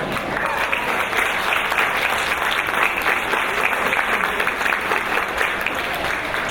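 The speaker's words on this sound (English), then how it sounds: "Let's give her a round of applause." An audience at a Chinese Exclusion Act 100th anniversary commemoration breaks into sustained, even applause, many hands clapping steadily for several seconds.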